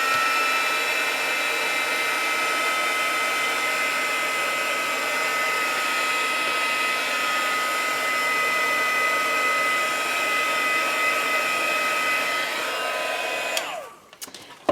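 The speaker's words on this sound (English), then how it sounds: "I'm just going to heat set that so that it stays where it is" A craft heat tool blows steadily as it heat sets Tim Holtz embossing glaze, a loud, constant whirring hiss with a high whine that runs unbroken before cutting off abruptly near the end.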